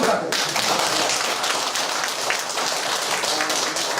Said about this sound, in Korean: 오늘 훌륭한 강연해 주신 우리 신동기 고문님 힘찬 박수 부탁드립니다.